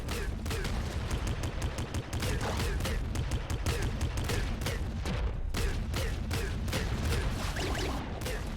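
Rapid video-game gunfire in Nuclear Throne, dense bursts of shots crackling continuously for several seconds at steady high intensity.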